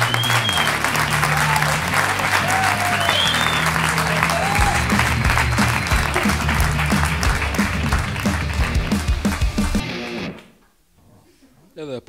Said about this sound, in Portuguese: recebam com um forte aplauso